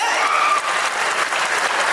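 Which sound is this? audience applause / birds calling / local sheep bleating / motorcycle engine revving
audience applause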